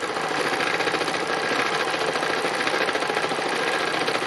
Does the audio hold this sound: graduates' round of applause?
no